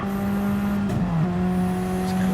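Race cars drone through a left-hand corner in a racing game, a steady loud engine whine that dips briefly in pitch mid-turn before settling again, with no voices.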